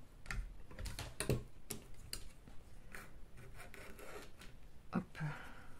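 Scissors snip through lace trim for an autumn greeting card, a few short crisp cuts and rustles of fabric close by, with light handling noises between them.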